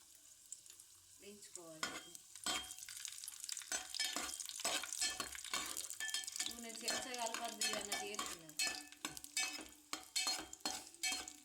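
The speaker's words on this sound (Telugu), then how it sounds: "డ్రై ఫ్రూట్స్ మంచిగా వేపుకోండి" Dry fruits fry in hot ghee with a busy, continuous sizzle. A spoon repeatedly scrapes and clinks against the pan throughout, loud and close.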